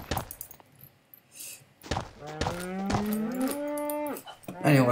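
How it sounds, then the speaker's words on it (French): Cows mooing in a Minecraft-style farming game, a drawn-out low moo rising and bending in pitch, preceded by a few thuds and brief sounds, fairly close and loud with no talk over it. "Allez, on va commencer à récupérer les vaches."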